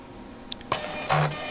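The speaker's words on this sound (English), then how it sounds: "the private and public keys are both printed onto the template" Printer printing private and public keys onto a Bitcoin paper wallet template makes a brief burst of mechanical whirs and clicks, ending in a louder motor buzz, close and alone.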